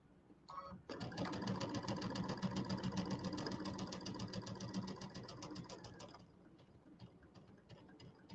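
A sewing machine stitches quilt pieces with a fast, even mechanical whir for about five seconds, then stops, leaving only faint handling clicks.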